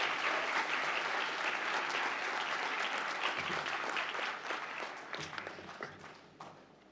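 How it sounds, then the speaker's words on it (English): Audience applause for newly presented graduates at a university commencement ceremony, dense clapping that fills the hall then thins out toward the end, with scattered individual claps standing out. "Let us give a round of applause to the graduates who have just been presented."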